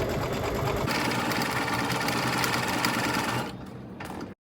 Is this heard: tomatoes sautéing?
no